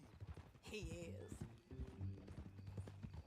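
Horse hooves clip-clop at an easy pace in Red Dead Redemption 2, with a brief whinny early on and voices talking over the steady beat.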